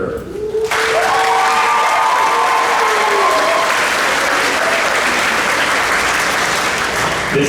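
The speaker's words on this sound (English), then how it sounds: "you guys want to clap for each other, or you want to clap at the end?" Audience at a high school spring concert breaks into loud, sustained applause, a dense wash of clapping that starts sharply and carries on steadily to the end, with a faint tone and crowd noise underneath.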